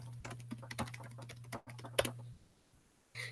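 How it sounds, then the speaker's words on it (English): Fingers type on a computer keyboard in a quiet room, with irregular bursts of soft clicking keystrokes, close by and faint, over a steady low hum. "I'm going to go ahead and type that into the chat."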